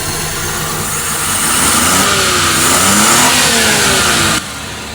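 A Suzuki F6A 12-valve engine, just fixed after a hard-start fault, revs up close by, its pitch climbing and falling over a few seconds before the revving drops back.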